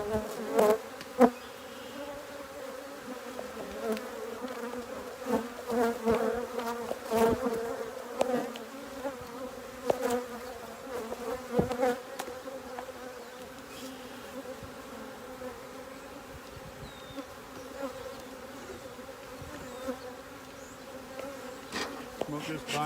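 Honey bees buzz steadily around an open beehive during a hurried inspection, a dense droning swarm close by with individual bees zipping past the ear in bursts, no voices.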